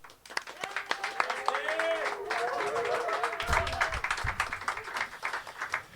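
Audience applause welcoming the performer at a small music club, scattered claps building into a steady round that carries on throughout, with a voice and some musical tones sounding over the clapping early on.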